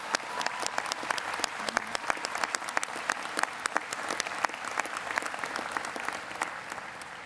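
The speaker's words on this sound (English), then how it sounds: "One more round of applause, please," An audience at a university spring convocation ceremony applauds with sustained, even clapping from many hands, moderately distant and steady throughout, with no clear speech.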